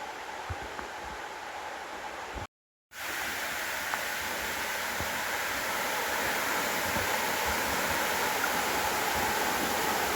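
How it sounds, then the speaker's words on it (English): A steady, broad rush of falling water fills the scene, constant and fairly distant, briefly cutting out once before resuming. "You can see a little waterfall through the trees."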